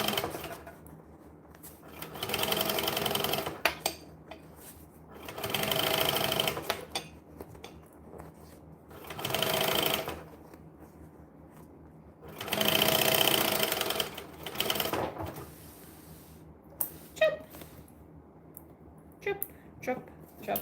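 Sewing machine top stitching a bag, running in bursts of a few seconds separated by pauses, with quiet handling noises in between.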